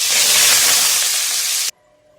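Egg gravy ingredients sizzle loudly in hot oil for a steady hiss lasting nearly two seconds, then cut off abruptly to near silence.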